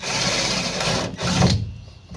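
A power drill with a slightly wobbly drill bit runs in two short, buzzing bursts, heard close, with a brief pause between them.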